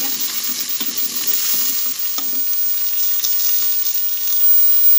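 Red chilli and spices stir-fry for haleem in a hot pan, a loud continuous sizzle with scraping stirs and occasional clinks of the spoon close up.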